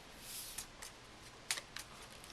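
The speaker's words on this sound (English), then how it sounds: "So, I'm going to shuffle up the deck." A deck of cards is shuffled during a card game demo, giving a few quiet riffling bursts and soft snaps close by in an otherwise quiet room.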